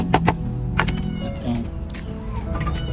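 Several short meows from a cat among clattery knocks and background noise, close and fairly loud.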